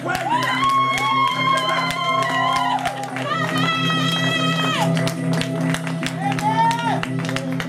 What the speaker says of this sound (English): Please clap your hands. Clap your hands.